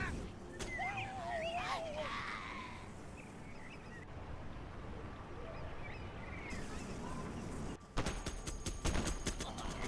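Minigunner infantry in the real-time strategy game Command & Conquer Generals Zero Hour: faint battle noise under a commentator's talk, ending in a dense burst of rapid, rattling automatic fire.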